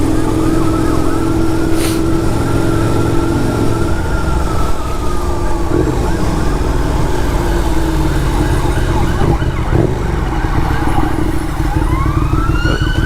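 A police car siren wails through busy London afternoon traffic, heard from a KTM 1290 Superduke motorcycle, rising and falling above loud continuous engine and wind roar, with the sweeping tone growing more distinct near the end.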